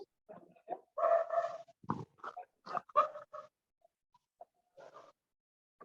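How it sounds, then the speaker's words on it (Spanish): A small dog on a video call makes short, nasal yips and whining grunts in irregular bursts, close to the microphone, with quiet gaps between sounds. "O mutear a su perrito."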